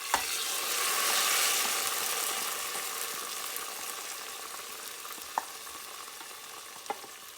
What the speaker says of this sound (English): watching that sizzle as it goes in.